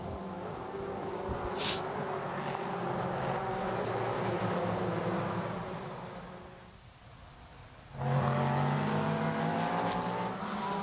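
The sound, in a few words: race cars at the 12 Hours of Sebring, Cadillac leading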